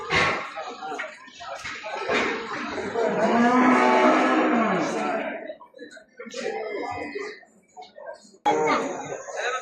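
Calves moo loudly and close at an outdoor livestock market in Mashtaga, Azerbaijan, one long drawn-out call in the middle among shorter bellows, with people talking and other market noise around.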